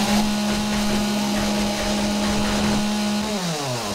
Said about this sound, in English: Chainsaw's all you got. Chainsaw's what you gotta use.